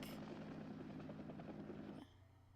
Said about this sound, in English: We're gonna ride a helicopter?